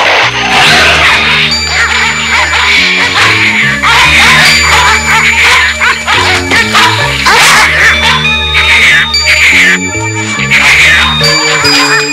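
Cartoon dogs bark and yip during an attack over loud, busy music, with short repeated barks scattered through the scene.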